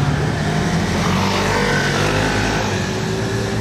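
A white BMW M3, the latest model, passes by with a loud, steady engine roar and road noise that stays dense and near for a few seconds.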